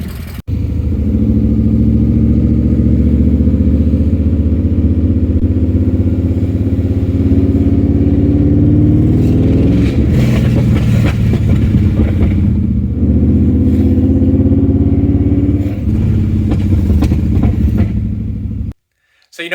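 BMW E39 M5 wagon engine running loud and steady close by, its low throaty rumble holding then rising and falling as the car drives, with a few brief revs and a sudden cutoff at the end.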